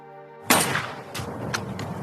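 Sniper Swagger fires in the film Shooter (2007), one sharp loud shot followed by a couple of fainter reports and some echoing rumble.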